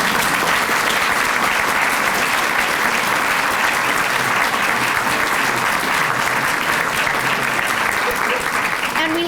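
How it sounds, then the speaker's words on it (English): Sustained, dense applause from an evening lecture audience in a museum hall, loud and steady throughout without a break. "I'd really ask for your applause"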